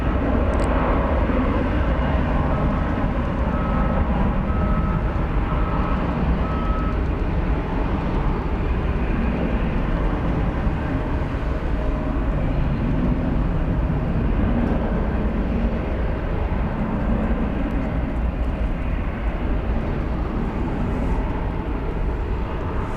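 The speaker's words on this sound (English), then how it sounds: "let's watch this American Eagle plane take to the skies" An American Eagle regional jet takes off at DFW Airport, a loud, continuous broadband engine roar that holds steady throughout, heard from a distance with no talk.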